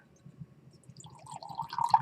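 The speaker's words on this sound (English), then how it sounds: "So there are both beakers filled with warm water." Warm water pours into a lab beaker, starting as a soft low trickle and then building into a brighter, louder filling gurgle, close by with no talking.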